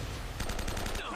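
Gunfire in Uncharted: Drake's Fortune, a quick rapid burst of about half a dozen automatic shots rattling close and loud over a low background rumble.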